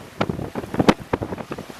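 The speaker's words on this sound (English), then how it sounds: "the problem today is that the wind is actually too strong" Strong gusty wind at sea aboard a sailboat with a reefed sail buffets the microphone in rough, uneven bursts, loud and close, with no voices.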